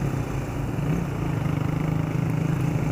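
Honda CB150R motorcycle, 2015 model, its DOHC single-cylinder engine running at a steady idle, close and continuous, with a fast even pulse and no change in revs.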